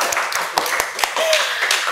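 Hands clapping at a podcast taping as a guest singer is introduced, a close burst of quick sharp claps in an uneven rhythm with a voice talking briefly underneath.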